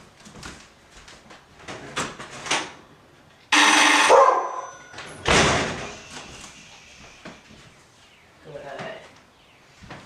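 Dogs bark and a door-type impact sounds in two loud bursts around the middle of the clip, left ringing by a doorbell at a home entrance, with quieter household noise and talk before and after.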